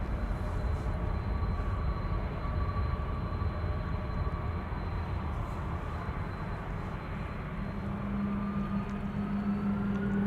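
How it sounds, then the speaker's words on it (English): A Delta Airbus A330 spools up its engines at Schiphol Airport, a sustained distant roar with a rising whine that swells across the ten seconds, broad and steady with no voices. "Another Delta A330 spooling up, going to Detroit, Michigan."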